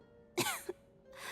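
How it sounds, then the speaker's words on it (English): A girl gives two close coughs, a harsh burst followed by a shorter one, then faint breathy noise at the end, over a quiet background with a steady low hum. "How long have you had that cough"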